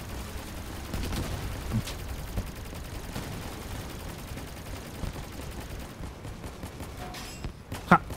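Cannons fire in a vehicle-building combat video game, a scattered run of sharp shots and bursts over a steady battle din, with a louder crack near the end.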